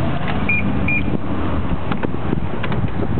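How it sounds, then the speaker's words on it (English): A 2002 BMW 745i key fob locks and unlocks the car. Two short, bright chirps come in quick succession, followed by soft lock clunks under a steady background hum, with no speech. "This is the key fob. You can see the vehicle locks,"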